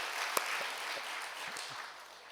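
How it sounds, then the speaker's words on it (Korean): Warm applause at Gangneung Central Methodist Church for teachers and children during a special early-morning prayer service, steady clapping from many hands that carries on evenly for the whole stretch, with no talking over it. "우리 교사들하고 아이들 우리 축복의 박수를 좀 따뜻하게 보내주시길 바랍니다"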